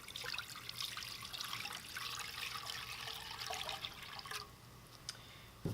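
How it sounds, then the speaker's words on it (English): Brine of kosher salt and brown sugar pours steadily in a continuous splashing stream for several seconds, then eases off into lighter trickling near the end. "just going to pour this brine."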